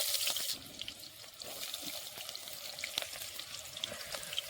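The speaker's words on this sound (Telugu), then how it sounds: "నూనె బాగా వేడెక్కాక ఉల్లిగడ్డ వేసుకోవాలి." Onions frying in hot oil in a clay pot, a steady crackling sizzle with bright spattering that stays close and fairly even, a louder burst at the start, with a few faint scrapes as a wooden stick stirs.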